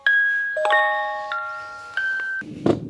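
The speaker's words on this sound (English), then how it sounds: "It also plays lullabies." A soft electronic chime melody plays sustained bell-like tones in a slow, gentle sequence, close and clear, ending with a brief muffled thump.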